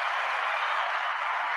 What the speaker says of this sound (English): Let's give him a nice big round of applause and a welcome to the Good Morning Portugal show